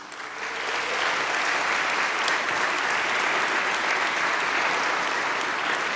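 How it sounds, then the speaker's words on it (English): A large congregation applauding graduates at a university baccalaureate service, a dense, even wash of clapping that swells in within the first second and holds steady, filling a big hall. "we applaud you today."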